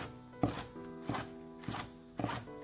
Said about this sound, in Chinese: 几颗小葱切成葱花。